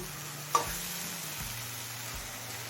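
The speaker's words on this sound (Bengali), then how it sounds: "এবার মিডিয়াম ফ্লেমে সমস্ত মশলা খুব ভালোভাবে কষিয়ে নেব" Spices for chicken liver sautéing in a pan over a medium flame, a soft steady sizzle with a single sharp clink of a utensil near the start and low stirring scrapes throughout, no voices.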